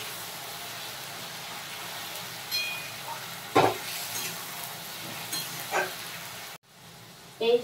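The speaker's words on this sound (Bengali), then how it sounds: "ভালো করে কষিয়ে নেব" Chicken keema frying with spice paste, a low continuous sizzle broken by several short bursts of stirring and scraping in the pan, ending with an abrupt cut.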